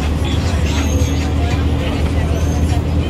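Interior of a BRT bus rolling through Dar es Salaam, Tanzania: steady low engine rumble and road noise with passengers murmuring in the background, close and continuous.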